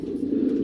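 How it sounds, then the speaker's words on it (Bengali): A pair of helmet pigeons, one blue and one red, gives a single short, low coo, close by and soft, with no other sounds around it. "এক পেয়ার হেলমেট কবুতর, অনেক সুন্দর।"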